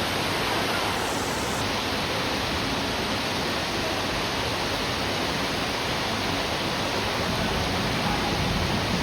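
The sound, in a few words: heavy rain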